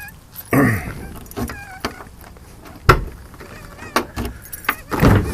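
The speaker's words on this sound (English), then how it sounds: "hopefully I brought the keys with me" Keys for a 1972 Chevelle jangling and clinking in bursts, with sharp metallic knocks and handling noises scattered across a few seconds, close and fairly loud.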